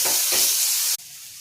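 Onion, curry leaves and tomato sizzling in a pan for egg masala, a loud close hiss with a stir partway through that cuts sharply to a quieter sizzle.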